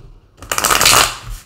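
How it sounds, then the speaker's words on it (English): A deck of tarot cards is shuffled in one quick riffle, giving a brisk, close flurry of papery flicking that swells and then trails off. "Let's give it a good shuffle"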